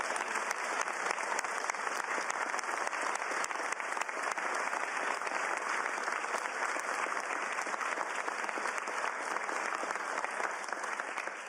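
Sustained, dense applause from a crowd of grassroots supporters at a Washington gun bill signing, a loud, even wash of many hands clapping that holds steady for its whole length.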